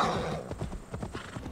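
A horse in the video game Assassin's Creed Valhalla gallops with a quick, rhythmic clip-clop of hooves, loud and close, with no talking over it.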